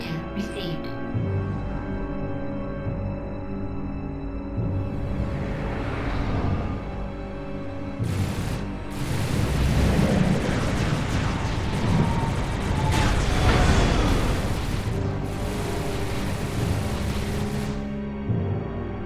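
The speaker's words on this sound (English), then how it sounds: "So let's call in the old bombing run." A bombing run strikes a Maldium-armored generator in Metroid Prime 3: Corruption, with rumbling booms and bursts that build from mechanical game noise into a dense, loud stretch of explosions lasting several seconds.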